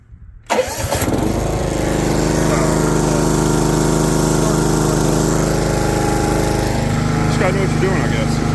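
An old John Deere GX75 lawn tractor engine, run on choke, catches after a short quiet start and settles into a loud, steady, close mid-pitched drone that holds evenly to the end.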